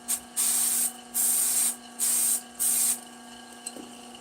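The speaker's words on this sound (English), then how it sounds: "Give it a little spray." Four steady bursts of aerosol finish sprayed onto turned wood, each about half a second, hissing loudly up close with short pauses between, then a quiet tap.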